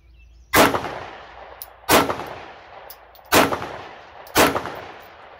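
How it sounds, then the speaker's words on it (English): A Glock pistol fired one-handed, four loud, sharp gunshots spaced roughly a second or more apart, each with a brief ringing tail, close and without talk. "one-handed shooting. Not easy."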